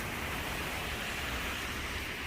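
A mix of rain and snow falls in a Montreal storm, heard as a dense, steady broadband hiss with no breaks, loud and enveloping, with no talk.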